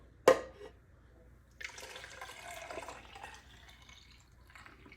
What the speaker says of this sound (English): I'm gonna pour it into here.